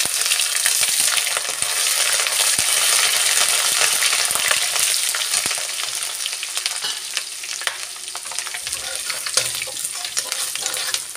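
Bay leaf, cracked whole cardamom and crushed ginger sizzling in hot oil for a restaurant-style mixed vegetable dish, a loud continuous hiss with scattered crackles and stirring scrapes, no voices.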